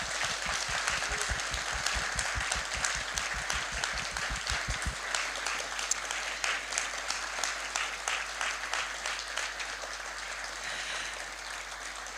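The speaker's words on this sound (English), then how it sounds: "please help me by giving them a warm round of applause." A conference audience applauds steadily for the whole stretch, a dense wash of clapping with a thumping beat underneath at first.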